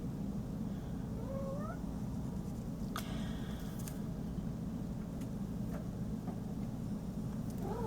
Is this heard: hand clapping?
no